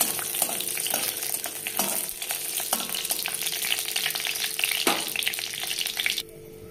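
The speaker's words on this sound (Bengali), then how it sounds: "তেলের মধ্যে শুকনো লঙ্কা, তেজপাতা দিয়ে দিলাম।" Dried red chillies and bay leaves fry in hot oil in a heated kadai, a loud, steady, crackling sizzle with sharp pops that cuts out abruptly just before the end.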